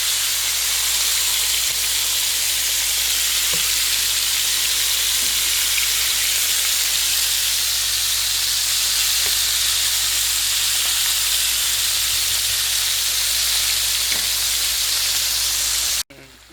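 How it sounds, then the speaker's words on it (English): Beef sizzles steadily in a pot, a loud continuous hiss and crackle that runs unbroken before cutting off at the end. "Frying up our last batch of meat"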